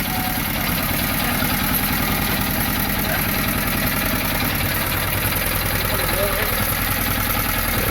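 A Roper 10 HP diesel engine runs continuously at close range with a loud, steady, low throbbing chug and rough mechanical clatter that never lets up.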